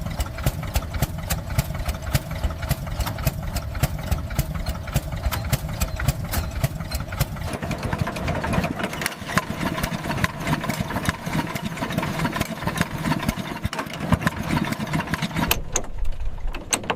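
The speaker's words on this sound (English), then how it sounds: "Here we see the restored 1893 Duryea Motor Wagon." A restored 1893 Duryea Motor Wagon engine idles steadily and close by, a rapid even chugging that holds for the whole stretch before cutting off near the end.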